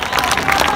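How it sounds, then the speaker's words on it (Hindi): A concert audience at a live show at Kalyana Karnataka Utsava in Kalaburagi claps for the band, a dense, steady wash of applause and crowd noise with some cheering, loud and continuous throughout. "आप सब जोरदार ताली बजाएं हमारे हमारे जबरदस्त म्यूजिशियंस के लिए"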